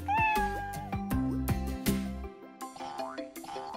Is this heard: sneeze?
no